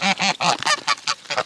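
Geese being hand fed fish food beside a homestead pond give a quick run of loud, close honks, about eight in a row, with no talking.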